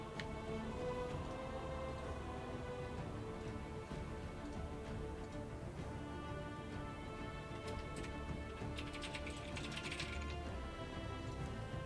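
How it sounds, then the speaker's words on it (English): Brief computer keyboard typing under gameplay of the video game Dragon Age Inquisition, a soft, irregular clatter of keys mixed with steady game music. "Also apologizing for my brief typing."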